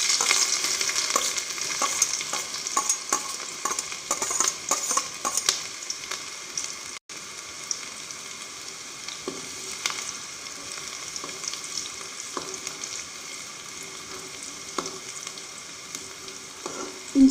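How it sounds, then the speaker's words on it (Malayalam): Chopped ginger and garlic frying in hot oil with popped mustard seeds for a spicy mango pickle, a loud continuous sizzle with frequent sharp crackles and stirring scrapes, no one speaking. "നമുക്കിനി അതിലോട്ട് അരിഞ്ഞു വെച്ചേക്കുന്ന ഇഞ്ചി വെളുത്തുള്ളി ഇതൊക്കെ ഇട്ട് കൊടുക്കാം."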